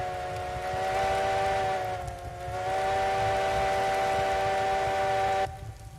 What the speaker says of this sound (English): You want more whistle, Ben?